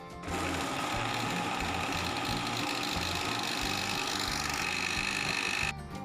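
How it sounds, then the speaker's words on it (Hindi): An electric grinder whirs loudly and steadily as it blends tomatoes for homemade ketchup, holding a constant buzzing drone for several seconds before cutting off abruptly. "अब इसको मैं ग्राइंड कर लेती हूँ।"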